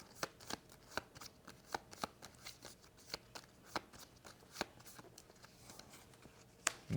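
A deck of playing cards is shuffled for a tabletop card game, with crisp riffling bursts and snaps repeating in a quick, even rhythm nearby, with no talk over them.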